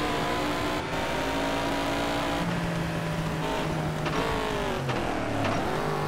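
A racing car engine in DTM Race Driver 3 revs and accelerates, its whining pitch rising and dipping through gear changes, loud and close with no talking.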